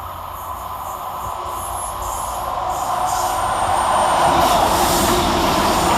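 Diesel train 158822 on a Birmingham New Street to Holyhead service runs through Smethwick Rolfe Street station, its engine rumble and rolling noise building steadily louder as it approaches, with no voices.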